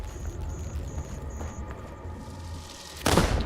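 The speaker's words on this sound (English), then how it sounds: "Flashbang anomaly." A flashbang anomaly in STALKER 2 erupts as a sudden loud burst near the end, following a stretch of game ambience with faint intermittent high beeping tones.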